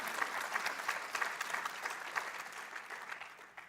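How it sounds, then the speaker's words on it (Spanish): A church congregation claps for God in a cathedral, a distant, roomy patter of applause that swells and then slowly fades away. "dele un aplauso a Dios, creo que Él se lo merece"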